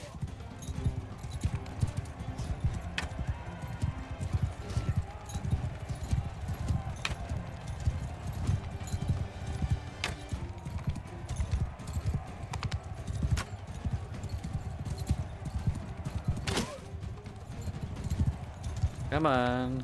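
Horses gallop in the medieval combat game Mount and Blade: Bannerlord, with steady rapid hoofbeats continuing throughout, occasional neighs and battle clatter, and someone talking over the action.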